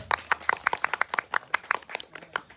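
An audience claps for a group performance at a stage event, a sparse run of distinct, fairly faint handclaps in quick irregular succession.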